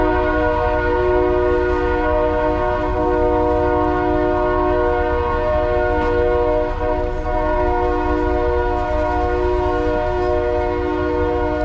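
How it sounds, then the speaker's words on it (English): A long, steady train horn blares nearby as a train rolls right through a downtown market area, its layered tones holding without a break for the whole stretch, loud and alone with no talking. "The train goes right through downtown."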